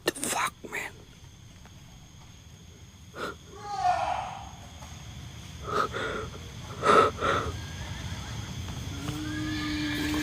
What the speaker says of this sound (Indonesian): Woi, suara kuda, woi.